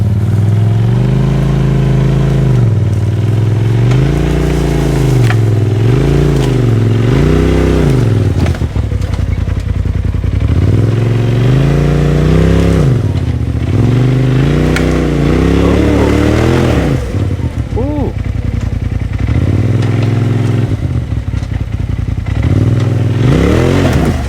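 Polaris RS1 and RZR Turbo S UTV engines rev and drone loud and close as they crawl over logs on a Traverse City trail, the pitch repeatedly rising and falling, with people talking at times.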